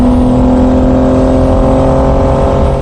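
A vintage 250-horsepower Porsche race car engine runs loud and close, holding a steady, rough, buzzing drone with no clear rise or fall in pitch.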